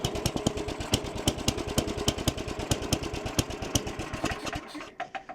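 Free secondhand snowblower engine idling roughly, a loud close rapid chugging putter with uneven beats that falters and cuts out near the end.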